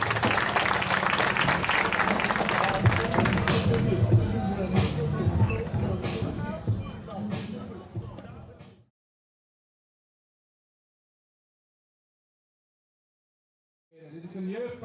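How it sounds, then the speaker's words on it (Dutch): A crowd at a kickboxing fight night claps and cheers loudly for the fighters after a bout, a dense steady roar of applause lasting several seconds before it cuts off, with a brief burst of noise returning at the end. "Graag ook een groot applaus voor Isabella Leidekker."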